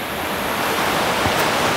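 River water rushes loud and steady at a trail crossing near Baños de Agua Santa, Ecuador, a constant close roar with no voices.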